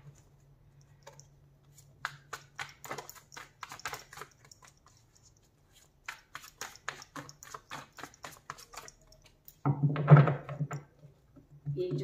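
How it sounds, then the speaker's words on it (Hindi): A deck of tarot cards is shuffled close up, with bursts of crisp riffling card clicks separated by quiet gaps, and a brief voice near the end. "अभी एक शफल और बाकी है।"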